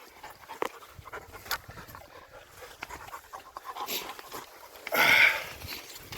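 A female shed-hunting dog pants softly nearby in the outdoors, with light rustling and a brief louder burst of breathing near the end.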